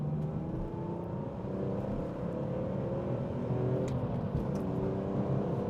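A BMW M3 accelerates hard in third gear from about 2,000 rpm, its engine note climbing steadily and loudly throughout from inside the car.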